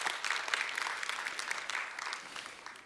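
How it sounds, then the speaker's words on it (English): Applause from a church congregation during a Sunday service thanking volunteers, a steady crowd of clapping hands filling the room for about three seconds and tapering slightly at the end. "that deserves some applause"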